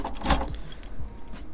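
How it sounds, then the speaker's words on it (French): A bunch of keys jangles and rattles close by for a moment while someone searches through the key ring for the right one, with faint road or car noise in the background. "on a du mal un peu à voir le trousseau pour chercher les clés"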